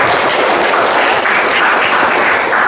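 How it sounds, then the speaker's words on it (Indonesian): Students in a classroom break into loud, close applause, a thick continuous wash of clapping hands that holds steady throughout with no speech on top. "Oke, tepuk tangan dulu."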